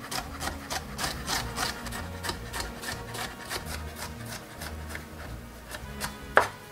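A knife slices red, yellow and orange peppers very thin on a cutting board, giving quick, regular, close taps that repeat steadily with no talking.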